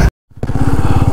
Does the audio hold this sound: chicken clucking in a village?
no